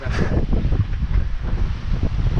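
Strong wind buffets the microphone while sailing, a loud, continuous rumbling roar with gusty fluctuations and no voices.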